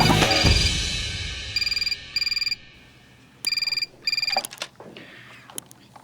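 A telephone rings at a women's police station in Lucknow, with loud electronic ringtone bursts arriving in short pairs and separated by pauses, heard close and alone.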